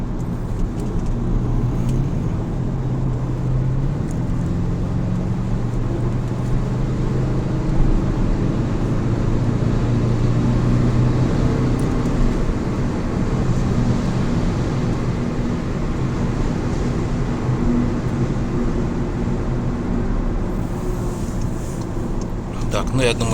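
Inside a moving Skoda Octavia vRS during diesel particulate filter regeneration, a constant low engine and road-noise hum fills the cabin throughout, with a voice speaking over it now and then.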